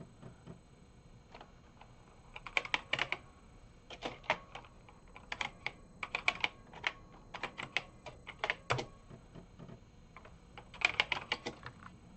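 Typing on the keyboard of a Panasonic MSX2+ FS-A1WX home computer, heard as irregular bursts of close, crisp key clicks with short pauses between runs over a faint background hum.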